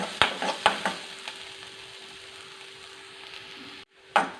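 Onions sautéing in a pan, a soft continuous sizzle with several sharp stirring knocks and scrapes near the start and end, a brief quiet gap before the last clatter.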